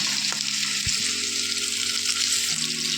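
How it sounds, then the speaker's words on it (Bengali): Papaya pieces frying in oil in a kadai, a steady close sizzling hiss with a faint low hum underneath and one brief knock, no voices. "দিয়ে পেঁপেটা ভাজবো।"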